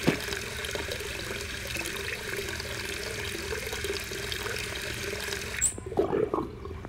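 Water running from a tap into a bucket in the Hello Neighbor video game, a steady rushing pour that stops abruptly near the end, followed by a few small splashes and clunks.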